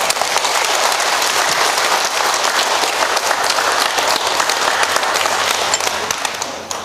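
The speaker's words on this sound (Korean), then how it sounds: "그렇게 위대한 어머니들에게 박수 한번 쳐드릴게요." Sustained, loud audience applause fills a laughter yoga health lecture at an integrative medicine expo in Jangheung, steady dense clapping throughout that tapers slightly near the end.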